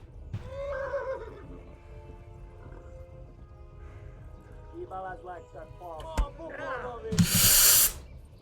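A horse in the game Kingdom Come: Deliverance whinnies loudly near the start and again in a few shorter neighs, over steady in-game background noise and ending in a burst of hissing noise.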